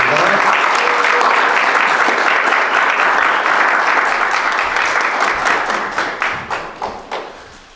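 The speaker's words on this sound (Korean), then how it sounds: "큰 박수로 환영하겠습니다." Sustained audience applause at a church evangelism training session, loud and dense, welcoming a speaker, then thinning into scattered individual claps that fade out over the last couple of seconds.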